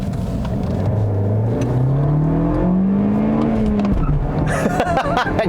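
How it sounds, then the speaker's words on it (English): A 2021 Toyota Corolla Apex with a manual transmission accelerates hard, engine pitch climbing steadily, then dropping on the shift into second, when the tires give a brief chirp and the revs pick up again. "I got it to chirp second."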